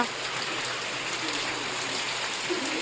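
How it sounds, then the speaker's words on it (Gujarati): Heavy rain pours down steadily and close by at a rural home, a dense, even roar of drops with no letup. "જોઈ લો વરસાદ એટલે આમ જવા જોયો વરસાદ આવે છે. ફૂલ વરસાદ"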